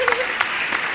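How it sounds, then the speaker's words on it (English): Audience applause for a mom in a talk show studio, a brief burst of clapping that swells as a voice speaks briefly over it at the start. "let's have a round of applause for the"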